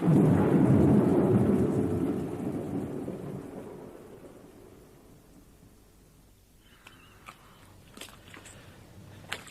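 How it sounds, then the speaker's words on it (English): Rain and rolling thunder in a radio drama set on a moor, a heavy rumble that slowly fades into patter and scattered drips. "better now the rain's finally stopped"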